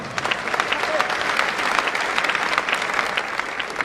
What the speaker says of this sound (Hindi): तालियां चाहूंगा भारत माता के साथ।